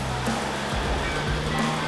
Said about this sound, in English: We pushed through, probably used a bit too much speed, created a bit of a splash.